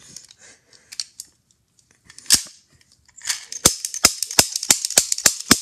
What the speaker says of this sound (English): It's a cap gun.